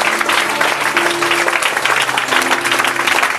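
A church congregation applauds and acclaims the Lord at a French-language worship service, steady sustained clapping with crowd voices filling the space and faint musical tones held underneath.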